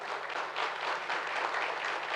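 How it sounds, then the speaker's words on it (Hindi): Audience applause at a network marketing training seminar, steady dense clapping from a room of attendees holding evenly for a couple of seconds with no voices over it. "एक बार ताली बजा दो अपनी अपनी अपलाइन को।"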